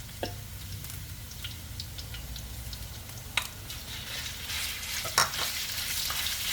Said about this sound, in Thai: เอาหมูสับลงไปผัดค่ะ